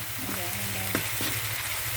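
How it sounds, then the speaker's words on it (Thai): Steady sizzling of chili paste frying in hot oil for a chicken, coconut milk and pumpkin curry, with a faint voice and light clatter of a utensil in the pan. "ผัดพริกให้พอขึ้นมันจ้ะพริกขึ้นมันก่อน"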